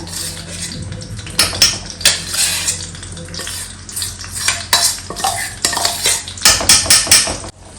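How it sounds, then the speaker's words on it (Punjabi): A spoon scrapes and stirs semolina frying in ghee in a metal pan, giving loud, close, continuous rasping strokes with a soft sizzle underneath and no talking. "ਇਹ ਖੁਰਚਣਾ ਇਹ ਫੇਰਦਾ ਹੀ ਜਿਹੜਾ ਘਿਓ ਹੈ ਇਹਦੇ ਵਿੱਚ ਚੰਗੀ ਤਰ੍ਹਾਂ ਮਿਕਸ ਕਰ ਲੈਣਾ ਸੋਜੀ ਨੂੰ"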